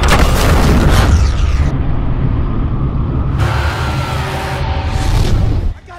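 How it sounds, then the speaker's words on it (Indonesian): A loud, sustained cinematic blast from the film Immortals as a prison is destroyed in a burst of light, with deep rumbling low end and a roaring wash that swells, shifts, then cuts off near the end. "Hyperion lebih dulu menghancurkan penjara dengan anak panah Epirus dan menyebabkan ledakan cahaya"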